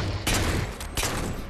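Gunfire in the Xbox 360 shooter Halo 4: two loud, close bursts of weapon fire with a rumbling tail, separated by a short gap.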